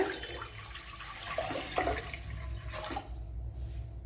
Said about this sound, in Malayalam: ഇതിലേക്ക് ഇനി വെള്ളം ഒഴിച്ചു കൊടുക്കുക.